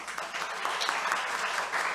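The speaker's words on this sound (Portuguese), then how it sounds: "E queria pedir um aplauso" Applause from the audience at an online lecture for business school students, a steady patter of clapping that fills the whole stretch without voices.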